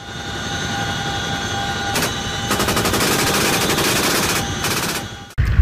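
An Apache helicopter fires its machine gun during aerial gunnery training in Drawsko Pomorski, Poland, in loud, rapid sustained bursts over a constant rotor and engine drone, cutting off abruptly at the end.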